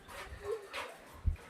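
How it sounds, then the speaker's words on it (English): An excited dog indoors, reacting to another dog arriving in the house, gives a few faint whines and yelps and one short, sharper bark near the end, all at low volume. "we got another dog in the house, and my dog is excited"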